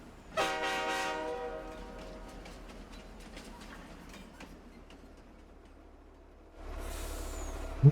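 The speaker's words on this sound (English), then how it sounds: "And the train is pulling away," Train pulling away in Farming Simulator 22 on the Zielonka map, opening with a loud, sustained horn blast, then fading rumble and clanks of cars as it departs, with a sharp click at the end.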